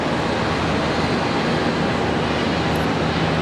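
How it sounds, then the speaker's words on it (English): An Airbus A321 airliner taxis for departure at Charlotte Douglas airport, a loud, steady, broad engine roar that stays constant throughout, with no talk. "It's that other A321 coming around here for departure"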